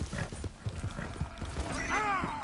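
A horse in the Red Dead Redemption 2 video game clops along with close hoofbeats, then lets out a loud whinny near the end.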